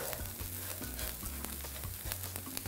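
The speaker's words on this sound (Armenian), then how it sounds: "այժմ համեմունքները տաք յուղի մեջ կբացեն իրենց բույրերը" Spices fry in hot oil for a dolma dish, giving a soft, continuous crackling sizzle at close range, fairly quiet, with a low steady hum underneath and no talking.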